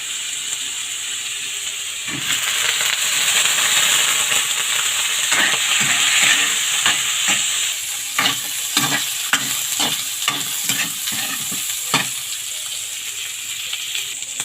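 Hot oil spatters and sizzles around pork bones frying in a pan, with a loud steady hiss broken by a string of sharp pops and scraping stirs.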